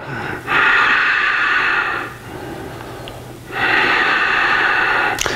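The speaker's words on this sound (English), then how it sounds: "And I want you to really practice breathing through your nose and making that sound." Two long breaths go in and out through the nose with a constricted throat. Each makes a close, loud, hissing rush with a pause between them.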